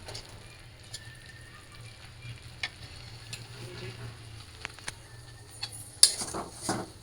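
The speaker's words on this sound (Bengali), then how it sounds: "এই যে আমার শুটকি বোনা প্রায় হয়ে যেতেছে" Dried fish (shutki) frying in a pan for a mashed shutki dish: a quiet, steady sizzle with scattered clicks and scrapes of a utensil, growing busier and louder near the end.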